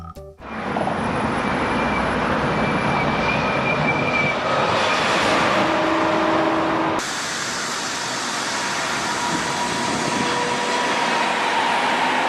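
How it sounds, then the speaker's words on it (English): Toy maglev train running with a steady, close whirring hum and a faint high whine, the tone shifting once partway through and then continuing evenly. "Maglev train."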